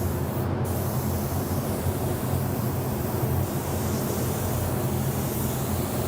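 A spray gun lays down a metallic white base coat for candy pink paint, giving a continuous, even hiss that holds steady at close range for the whole six seconds, with no talking.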